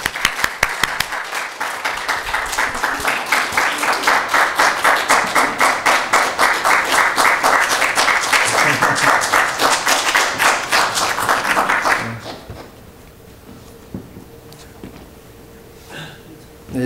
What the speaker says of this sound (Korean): 여러분 일단 박수로 맞이하고 은혜 받으시면 아멘 그렇게 하십시오